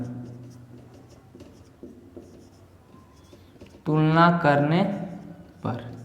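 Pen or chalk scratching out a class 10 polynomial maths lesson, soft repeated strokes at close range, followed by a teacher speaking near the end.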